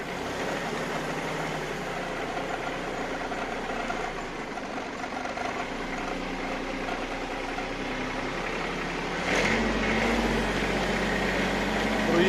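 A motor cultivator's engine runs steadily on test, a constant mechanical drone that holds even throughout and grows slightly louder near the end.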